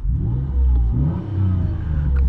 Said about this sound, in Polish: No powiem wam, ten samochód naprawdę bardzo smacznie się odzywa.